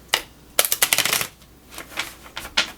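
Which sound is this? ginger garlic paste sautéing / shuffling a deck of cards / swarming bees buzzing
shuffling a deck of cards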